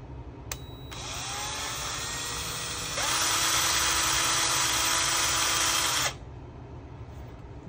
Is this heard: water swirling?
no